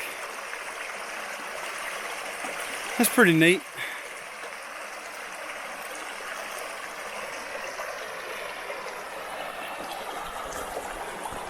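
A creek flows steadily through the Ouachita National Forest, a constant soft rushing wash of water heard close by, with someone speaking briefly over it partway through.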